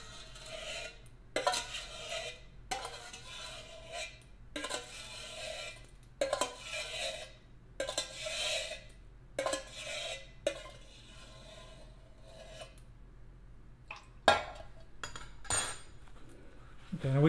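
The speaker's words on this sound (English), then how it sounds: "Now we can just take a fork and just scoop those wick tabs out." A metal fork scrapes and clinks against a container of melted candle wax while scooping out wick tabs, with repeated short scraping strokes in bursts and quiet pauses between, close and moderately soft.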